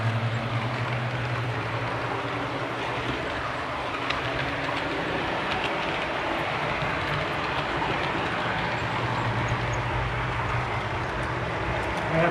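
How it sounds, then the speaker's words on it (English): A CN model train locomotive runs on a layout, a steady mechanical hum and rumble with faint rail clicking, unbroken and moderately quiet, without talk. "I have to get a bit of speed on this CN locomotive"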